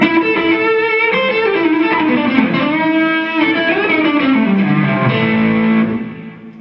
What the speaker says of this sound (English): This is my favorite distortion pedal.